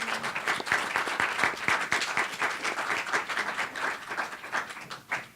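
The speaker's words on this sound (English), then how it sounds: "Give our panelists a round of applause," A modest audience applauds panelists after a discussion on bail reform, with individual sharp claps standing out within the crowd's clapping as it rises, wavers and begins tapering near the end.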